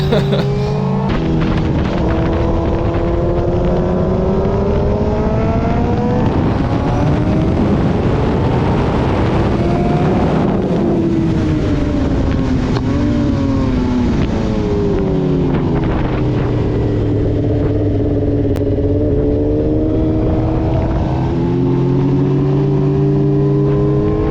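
Racing motorcycles at The Ridge Motorsports track, engines wailing loud and close as the rider's bike revs climb and drop through gear changes in long sweeps, with other bikes nearby and wind buffeting throughout.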